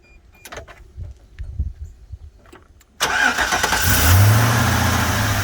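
A repurposed Chevy Vortec 5.3 V8 with a 6L80E automatic in a 1989 Toyota FJ62 Land Cruiser, quiet clicks and handling noises, then the engine cranks and catches abruptly and settles into a loud, steady idle.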